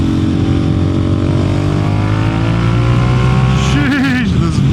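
Loud, steady engine drone of a Honda Pan America ST motorcycle under way, a rising harmonic hum near and constant, with wind roar and a brief pitch sweep near the end as the bike shifts or changes speed.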